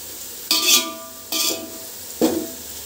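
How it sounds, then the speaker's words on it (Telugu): Onions frying in a pan for chicken biryani, cooked until light brown, with three bursts of stirring and scraping over a steady low sizzle, spaced about a second apart. "ఒక 8 నిమిషాల పాటు ఫ్రై చేసుకోవాలి."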